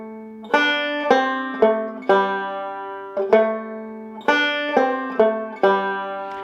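Banjo playing the second measure of the Irish jig Banish Misfortune: a clear run of bright plucked notes in a lilting rhythm, each attack ringing briefly, heard alone and close.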